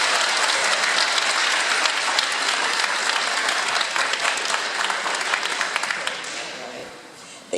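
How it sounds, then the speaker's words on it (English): An audience at a veterans tribute ceremony gives a sustained round of dense applause that stays strong for several seconds, then tapers off near the end, with some voices mixed in. "Give them a round of applause,"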